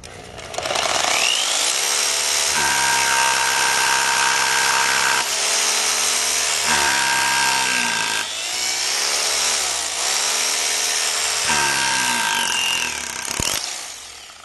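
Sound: overhead drill machine pre-drilling a hole in concrete

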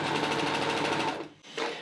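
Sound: sewing machine running stitches without fabric

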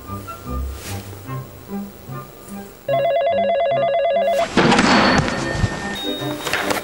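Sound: telephone ringing in video game Yakuza 0

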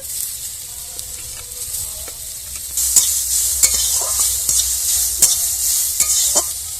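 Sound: bitter gourd frying in oil with garlic and onion

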